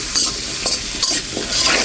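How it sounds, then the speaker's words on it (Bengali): Potato pieces frying with turmeric in a wok, close sizzling broken by several quick scraping stirs in a short burst, no talk. "এখন আমি নেড়েচেড়ে মিশিয়ে দিচ্ছি।"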